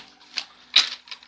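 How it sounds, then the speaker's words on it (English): Tarot cards being shuffled, heard as a few brief, crisp riffling bursts separated by quiet gaps, close and fairly soft. "One more shuffle."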